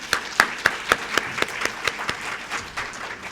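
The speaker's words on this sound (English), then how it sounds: "let's just applaud all the speakers today" Audience at a Kenya Diaspora Sacco meeting applauding the speakers: a short run of scattered, distinct hand claps from a modest crowd, fairly close, with no talk over it.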